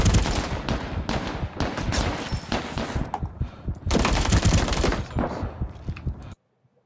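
Rapid automatic gunfire from the Ring of Elysium game, dense overlapping bursts of shots, loud and close, running nearly continuously with a short lull before a second heavy volley, then cutting off abruptly.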